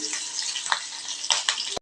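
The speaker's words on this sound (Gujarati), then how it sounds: "મરચાં સતરાઈ જાય એટલે પછી તમે" Green chillies sautéing in hot tempering oil in a pan for sweet-and-sour sabudana khichdi, a continuous close sizzle with a few louder pops and spatters over a brief stretch.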